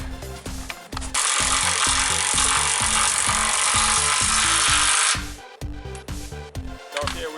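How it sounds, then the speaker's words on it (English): A small impact wrench tightens tow hitch bolts on a Mercedes W163 M-Class SUV in one loud, continuous burst of about four seconds, set against a steady rhythmic thumping beat in the background. "Just use the little impact so we can save a little bit of time and not turn them all the way."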